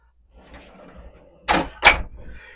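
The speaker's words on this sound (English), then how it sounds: "You can close this door" Bathroom door in a Tiffin Phaeton 36GH luxury RV swinging shut, landing as two close, firm knocks in quick succession after a stretch of quiet room sound.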